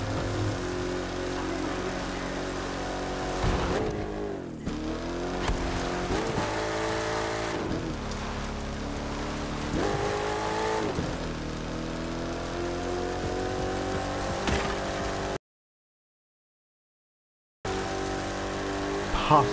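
Race car engines in a PS4 racing game, a continuous loud engine drone with repeated rising revs and gear-shift dips, briefly cutting to silence near the end, with a voice faintly talking underneath.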